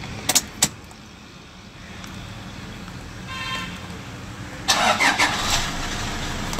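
A Toyota Hilux Vigo Champ pickup starts up: a couple of sharp clicks, a quiet hum of the ignition, then the engine cranks and catches near the end, heard close from inside the cab.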